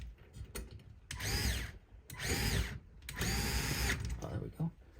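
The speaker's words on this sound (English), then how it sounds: "so this screwdriver helps out a lot" A torque-limiting electric screwdriver whirs in three separate close bursts, each a steady motor whine with a rising and falling pitch, separated by brief pauses and faint handling sounds.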